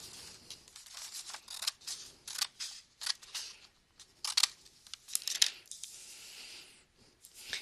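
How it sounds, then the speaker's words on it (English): Scissors cut through paper along a drawn line while a sled kite is made, producing a series of close, crisp snips and slicing strokes in irregular bursts with short pauses, and no talking. "Get your scissors and cut along the line you drew so you have 2 triangles."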